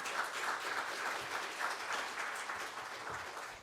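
Steady applause from a seated audience at a formal budget policy forum, a dense even patter of clapping that holds at moderate level throughout.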